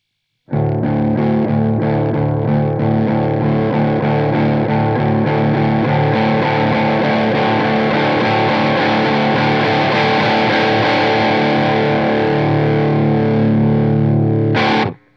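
Electric guitar played through a JHS Morning Glory V4 overdrive pedal, a dense sustained strummed chord ringing with light-to-mid gain drive for about fourteen seconds, loud and alone before cutting off.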